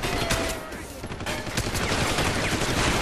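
Rapid, dense gunfire from Deus Ex: Human Revolution fills the whole moment, a loud, continuous burst of shots with faint talk underneath.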